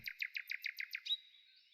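A bird sings a quick run of about seven bright, evenly spaced chirps, ending in a short rising trill, close and clear with no other sound.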